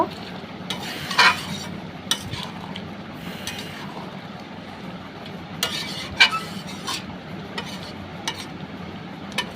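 A spoon stirs meat cooking in a pot over a low simmering bubble, with scattered scraping clinks and a few louder knocks against the metal.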